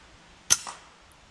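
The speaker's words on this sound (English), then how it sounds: "and no mistake in the follow-up shot" A single FX Dreamline air rifle shot aimed at a grey squirrel in open woods, a sharp crisp crack with a short trailing thump of impact, isolated against quiet outdoor background.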